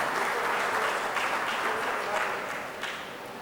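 An audience gives steady, dense applause for a 103-year-old guest at a gathering, a sustained wash of clapping across the whole span that eases slightly toward the end.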